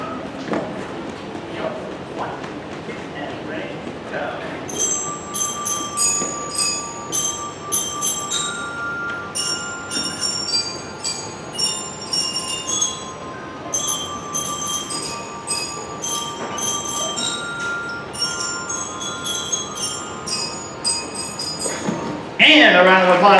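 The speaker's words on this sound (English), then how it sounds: "This instrument is similar to the piano, except played with mallets to strike the individual bars." Orchestra bells struck with mallets by a school band, bright ringing metallic notes in runs and repeated patterns over a background of room noise and ensemble sound, with a brief loud burst at the end.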